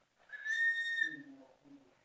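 A small lead organ test pipe blown by mouth gives a single high, steady whistle lasting about a second, close and clear, followed by a brief low murmur.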